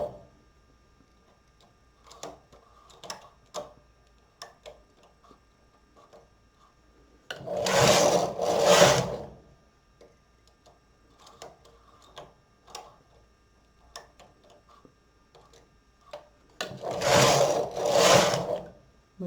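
A Silver Reed SK 280 knitting machine carriage makes two loud, rasping sweeps across the needle bed while knitting a shawl. Soft clicks and handling taps fill the quiet between the passes.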